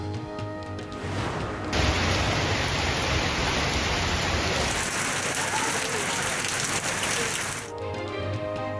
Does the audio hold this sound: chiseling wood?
no